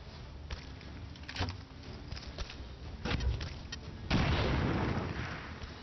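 Bomb blast in the XCOM 2 strategy game: scattered muffled thuds lead to a heavy, broad explosion that erupts near the end and rumbles on, fairly quiet overall.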